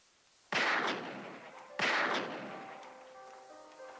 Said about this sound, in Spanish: Disparos que, como no, alarmaron a todos los presentes, pues provenían del exterior de la oficina